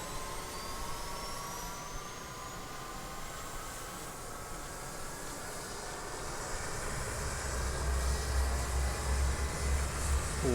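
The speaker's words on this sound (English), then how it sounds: "let's hear them spool into life" F-4 Phantom jet engines in Microsoft Flight Simulator with a custom sound set whine and spool up, a rising turbine tone over a low roar that grows louder toward the end.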